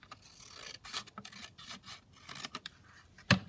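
Paper being trimmed during a crafting session, making ephemera and a fold-down folder from background papers: a run of close, dry rasping snips and rubs in uneven bursts, ending with a sharper louder snip, with no talking.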